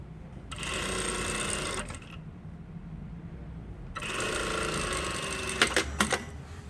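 Sewing machine stitching the side seam of tailored shorts, two steady close bursts of fast whirring stitching separated by a pause, the second ending in a few clicks and clunks.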